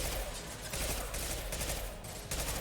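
Pistol gunfire in Mass Effect, heard as a dense, loud run of rapid shots and impacts with only brief gaps, sounding close and steady, with game noise mixed in and no clear talk over it.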